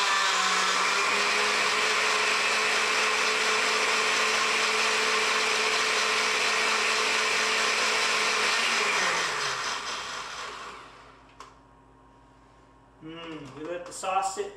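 A blender whirs loudly and steadily as it minces onion for a salmon sauce, then winds down and stops, leaving brief quiet before a voice starts talking near the end.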